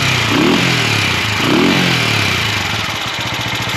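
A restored 1968 Montgomery Ward Riverside 250 motorcycle engine, running slightly rich, idles close by with a couple of brief revs before settling into a steady putter.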